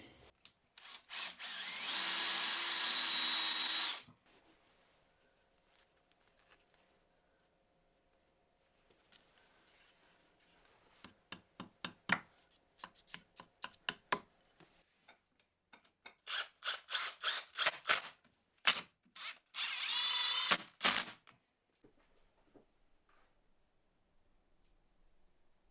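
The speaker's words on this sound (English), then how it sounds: "drill some holes and screw them on" A power drill whines in a few bursts while drilling holes in a wall for shelf brackets, one long and others short, with scattered knocks and clatter between them in a quiet room.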